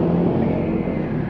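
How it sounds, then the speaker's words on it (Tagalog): A motorcycle rides along a road at night, its engine giving a steady low rumble and drone that holds constant and close, with no talk. "Pag-motor na naman tayo."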